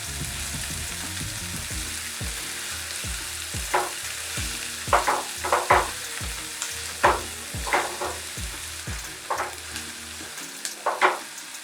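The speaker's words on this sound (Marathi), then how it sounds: "आता यामध्ये मी कांदा घालत आहे कांदा पण आपण व्यवस्थित परतवून घेऊया" Chopped onion sautés in a pan alongside garlic for broccoli soup, a steady sizzle with rhythmic scraping stirs and spatula knocks repeating about every half second, close and fairly quiet.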